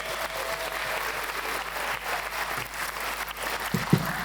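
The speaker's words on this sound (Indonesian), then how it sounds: "Tepuk tangan dong untuk David." A conference audience applauds a speaker with steady, dense clapping throughout, ending with a couple of louder close claps.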